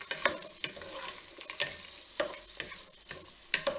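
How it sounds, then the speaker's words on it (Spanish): Dried ñora peppers and sofrito fry in a pan for traditional arroz a banda, with a continuous crackling sizzle broken by repeated sharp scrapes and knocks of stirring. "Lo vamos a sofreír todo muy bien."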